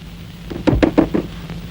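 A short run of four firm knocks on a wooden door in a tense night scene from a Tamil drama film, evenly spaced and close, with a faint low hum underneath.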